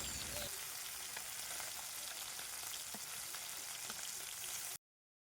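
Puti fish being turned and fried until reddish in mustard oil give a continuous close sizzle with faint spits and pops, cutting off abruptly at the end.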